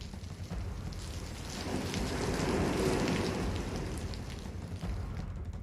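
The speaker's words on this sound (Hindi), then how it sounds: "ओडिशा के भुवनेश्वर में आज सुबह से ही काफी तेज बारिश हो रही है" Heavy rain pouring in Bhubaneswar, Odisha, during Cyclone Yaas, a dense continuous downpour hissing on surfaces that swells slightly louder midway, with no voices.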